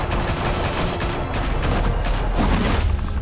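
Dense gunfire from several weapons in Batman: The Telltale Series, a steady, loud barrage of overlapping shots rattling without a break for a few seconds.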